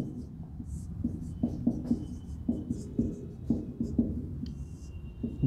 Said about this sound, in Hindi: अब मैं इसका डेफिनेशन लिख रहा हूँ